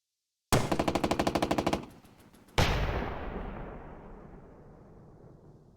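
A rapid burst of machine-gun fire from the WWII turn-based game Burden of Command 3, about a dozen evenly spaced rounds, then a pause and a single heavy shot that rings out with a long decaying echo.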